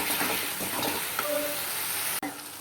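Onions frying in a pan, a steady broadband sizzle running the whole time with no talk, briefly cutting out near the end before resuming.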